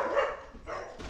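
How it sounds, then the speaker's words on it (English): Several dogs barking indoors in a short cluster of yips and woofs, fairly close and moderately loud, with a brief pause between bursts. "And that's the dogs."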